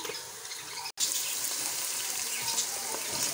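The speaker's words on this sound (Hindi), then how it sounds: "अब हम जो है बाकी चनों में जो है वो सूप ऐड करेंगे चनों को।" Soup poured into cooked black chickpeas for a kala chana dish, a steady close rushing stream of liquid with one brief break near the start.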